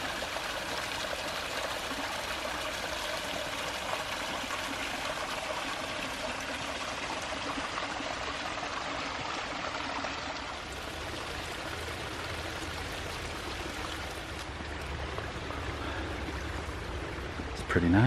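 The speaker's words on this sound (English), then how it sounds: "There's some waterfalls." Small waterfalls spill over rocks and bluffs along a wooded hiking trail, a steady, broadband rushing and trickling that continues evenly throughout without pause.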